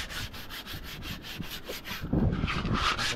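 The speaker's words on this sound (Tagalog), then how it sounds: "May liha dito, liliha natin itong mga kuan." Sandpaper rubbed by hand over a wooden boat hull under construction, a repeated back-and-forth scraping rhythm, close and fairly quiet, with a louder rougher pass near the end.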